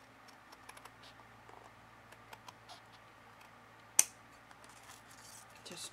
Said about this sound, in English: you can take your scissors and just kind of trim up anywhere